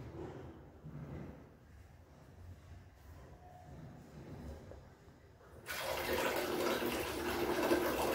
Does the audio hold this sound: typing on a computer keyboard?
no